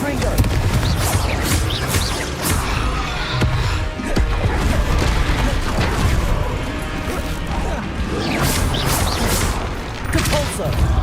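Confringo fire spells exploding during Hogwarts Legacy combat, with loud, dense bursts and crashes stacked over each other in a nearly continuous barrage alongside other spell effects.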